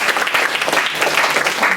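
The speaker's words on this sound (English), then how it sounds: "I think we should give the youth of this nation and especially this institution and biotech department students a big clap." An audience at a biotechnology department industry relations event applauds students: loud, dense, continuous clapping close by, sustained without pause and with no voices over it.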